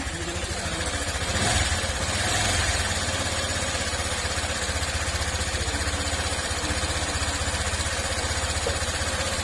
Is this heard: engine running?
yes